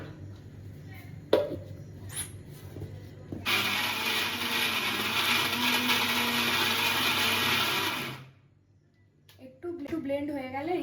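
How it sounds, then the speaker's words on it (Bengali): A kitchen blender whirs steadily for about five seconds while blending ingredients, loud and close, then cuts off abruptly, with clicks and handling before it starts and a voice talking after it stops. "এবার এটাকে আমি ব্লেন্ড করে দেব।"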